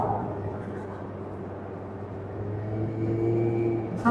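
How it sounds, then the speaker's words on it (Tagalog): A Piaggio Typhoon 50cc two-stroke scooter engine drones steadily while being ridden along a road in New Zealand, a close, continuous buzzing hum that swells slightly toward the end, with wind rumble underneath. "no, ang gamit nating motor ay Piaggio Typhoon."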